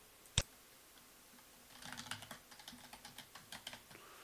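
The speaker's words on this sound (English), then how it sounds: "Let's type default username password." Typing a username and password on a computer keyboard: a loud single click near the start, then a steady run of soft, rapid key taps for about two seconds, fairly close and with no talking.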